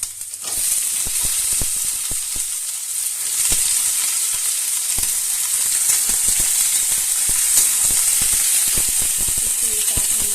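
Eggplant and potato fry together in a pan, a bright constant sizzle with a hiss of steam and scattered clicks of stirring, close up.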